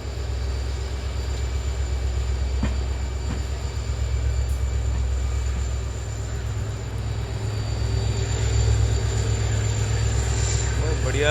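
Rajasthan Sampark Kranti Express running at speed, heard from inside as a steady loud low rumble and rolling drone with a faint whine, continuous for the whole stretch.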